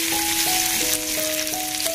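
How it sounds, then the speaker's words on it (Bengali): Crushed ginger fries in hot oil for a vegetarian flat bean dish, giving a steady, fairly loud sizzling hiss with a few sustained humming tones running through it. "একটু ভেজে নিচ্ছি তেলে"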